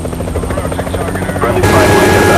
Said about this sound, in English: Friendly spy plane inbound.